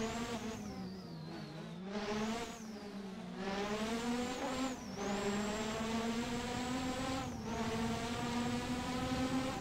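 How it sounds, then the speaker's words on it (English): AI-driven 1988 Formula One cars in a racing simulator game, their engines whining continuously at a high buzzing pitch that rises and falls through gear changes, with several cars overlapping close by and no talking. "this racing simulator with artificial intelligence-driven"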